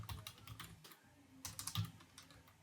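Rapid, irregular keystrokes on a computer keyboard, close and fairly quiet, in short bursts with brief pauses and no talking.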